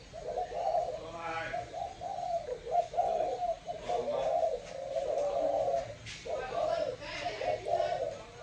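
A young songbird, the offspring of a cross between two bred lines, calls in repeated cooing, warbling phrases that run steadily through the recording at moderate loudness.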